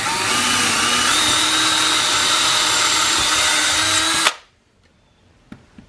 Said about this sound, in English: So I'm going to go ahead and get them drilled in there.